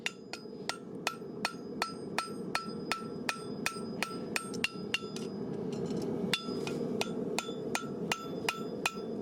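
A farrier's hammer rings on a handmade horseshoe at the forge, drawing out and bevelling the edges, in a brisk steady series of sharp metallic strikes with bright ringing overtones, close and alone over a low background hum.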